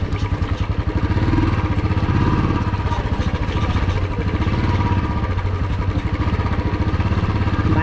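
A motorcycle riding along a rough local road, its engine droning steadily and loudly up close with a rhythmic pulsing throb and some rattle, without any talk.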